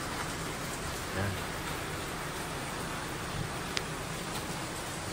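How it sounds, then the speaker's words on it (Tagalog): Steady rain patters down in Las Piñas in a dense, even hiss that continues unbroken throughout, with no voices. "Umuulan na naman."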